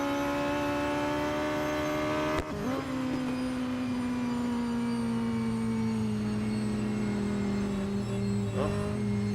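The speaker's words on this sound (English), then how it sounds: "Engine's a little bit on the warm side, but I'm nowhere near blowing it." Radical SR10 XXR race car engine in the Real Racing 3 racing game, a steady high-pitched engine drone that shifts pitch as the car lifts and coasts, with a brief sharp disturbance partway through and no talk.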